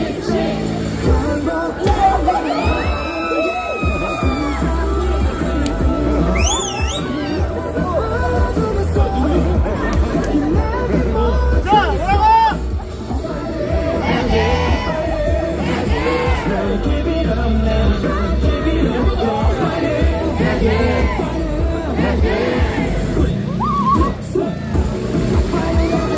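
A street busking crowd in Hongdae, Seoul, cheers loudly and without a break, with yells, whoops and shouting layered over a constant babble of voices.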